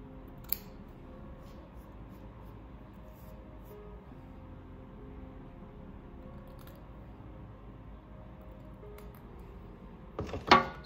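Small scissors snip at a beard during a weekly trim, faint, sparse clicks over a quiet room hush, ending in a short burst of louder rustling and cutting.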